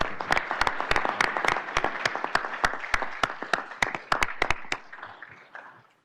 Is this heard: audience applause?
yes